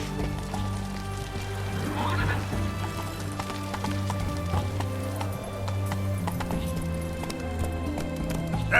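Roach, a horse in The Witcher video game, gallops in a steady clip-clop rhythm of hooves under a constant game soundscape, and a few brief whinnies are heard along the way.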